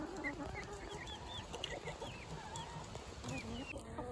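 Several chickens and chicks cluck and chirp softly while eating over a busy background rustle, with a faint voice in the distance.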